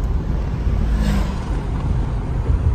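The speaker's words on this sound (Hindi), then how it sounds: "हम लोग नॉइस चेक करना चाह रहे हैं गाड़ी में कि इंजन का आवाज कैसा है।" A steady low rumble of a 2023 Tata Harrier SUV engine fills the cabin, with a constant broadband whoosh of road and air noise.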